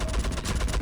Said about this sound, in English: I don't know what you're shooting at.